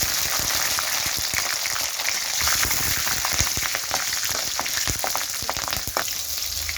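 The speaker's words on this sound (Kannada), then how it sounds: "ಕರಿಬೇವು ಹಾಕ್ಕೊಳ್ಳಿ. ಹಸಿಮೆಣಸಿನ್ಕಾಯಿ ಹಾಕ್ಕೊಳ್ಳಿ." Curry leaves and green chillies crackle and sizzle loudly in hot oil with fried chana dal while cooking palak uppittu, a dense continuous spitting fry heard up close with no talking.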